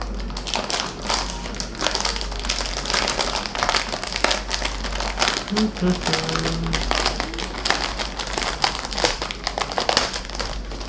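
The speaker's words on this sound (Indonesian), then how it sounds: "Ini plastiknya, kita buka dulu." Plastic wrapping on a HyperX Alloy FPS Pro keyboard crinkles and rustles steadily up close as it is opened, with a person talking throughout.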